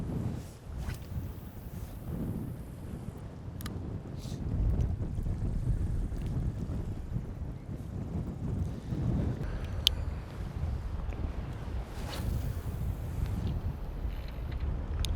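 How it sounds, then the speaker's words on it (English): Steady wind buffets the microphone on the Scottish west coast during bass lure fishing, a continuous low rumble with a few faint clicks and no talk. "Hopefully that wind drops a little touch"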